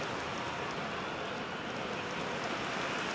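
Steady broadband rain hiss fills an eFootball 2024 stadium during a match, loud and continuous throughout with no speech over it.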